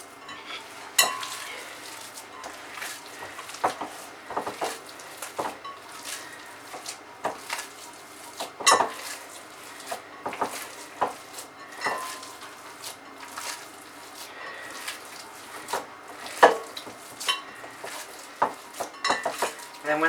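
A homemade meatball meat mixture is stirred and mashed in a bowl, giving a steady stream of soft squelching and scraping with frequent clicks and knocks of utensil against dish.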